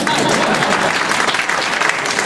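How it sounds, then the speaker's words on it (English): An audience at a Tea Party candidates' meeting breaks into sustained applause, a dense, even wash of clapping from a crowd that fills the whole moment without letting up. "Some applause would be fine."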